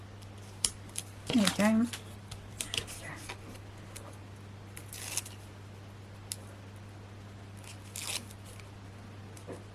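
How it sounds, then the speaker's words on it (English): Scissors trim a piece of a swirls-and-flourish stencil for a card: a short run of quiet, close snips, then a few scattered cuts, with a brief spoken remark over the light rustling. "I might have to just cut this one down a little bit to go across there."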